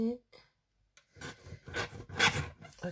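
Paper card stamped for an artist trading card being cut by hand, giving short scraping, rasping cuts in bursts after a quiet pause, close and moderately loud.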